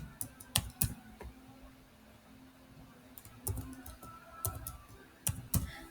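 Quick bursts of close key taps on a computer keyboard while a password is entered, a few clustered clicks separated by short quiet pauses, with no talking.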